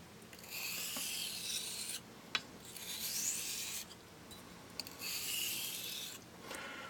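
A steel blade edge is honed on a hone under pressure, giving three long rasping strokes, each about two seconds, close and quiet with short pauses between them.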